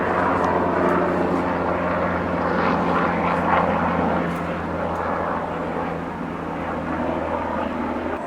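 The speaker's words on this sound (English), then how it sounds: "does everybody stop and look up when you hear a helicopter" A steady, low engine drone of a helicopter flying overhead, loud and continuous throughout with a broad rumbling hum and no voices.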